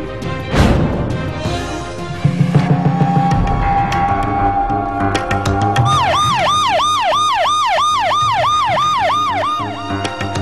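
A siren wails in rapid repeating rising-and-falling cycles, loud and close, after a few seconds of clatter and a low rumble.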